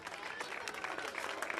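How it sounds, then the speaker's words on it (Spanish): A crowd applauds young players at a youth five-a-side football cup ceremony in Santiago de Compostela, giving dense, steady clapping with a voice heard faintly through it. "Y ahora, fuerte aplauso para"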